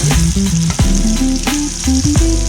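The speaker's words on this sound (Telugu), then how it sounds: "తర్వాత టమాటోలు అనేది వేసుకోవాలి." Tomatoes and green chillies fry in a pan with a loud, steady close-up sizzle and crackle, with clanking stirring strokes and bursts of spatter throughout.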